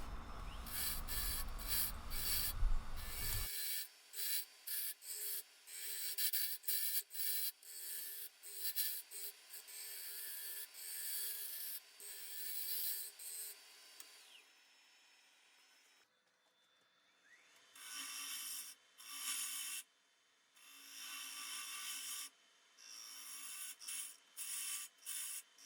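Sharp tool cutting oak on a woodturning lathe, producing steady raspy scraping in rapid repeated bursts. It is loud and close, briefly eases off partway through, and no one speaks.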